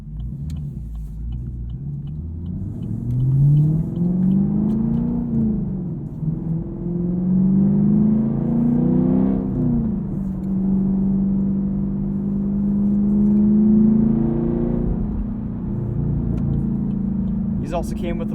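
A car with a 6.2 liter V8 making 455 horsepower and a 6-speed manual drives along, its deep engine rumble rising and falling through several gear changes, heard from inside the cabin.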